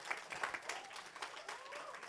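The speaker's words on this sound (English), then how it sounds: "Please give a big applause to Pak Dugis" Faint, brief applause from the audience at an academic conference on European and Eurasian studies, a patter of scattered claps heard from a distance.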